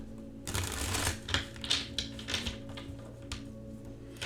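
Tarot cards being shuffled close up, a series of quick riffling and slapping bursts with short gaps between them, with no talking.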